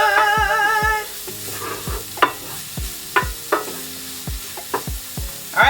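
Pecan and mushroom vegan mock sausage sizzles loudly in a pan as it is sautéed and stirred, with a steady frying hiss broken by sharp scrapes and knocks of the utensil against the pan.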